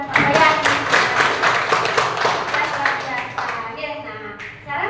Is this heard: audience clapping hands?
yes